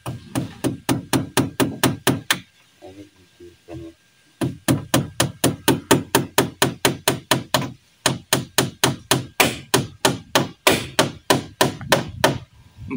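A hammer strikes repeatedly in fast, even bursts, loud and close, pausing briefly twice before resuming the same steady rhythm of sharp impacts.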